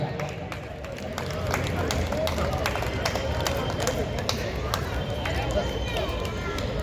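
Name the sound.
audience applause at a comedy poetry event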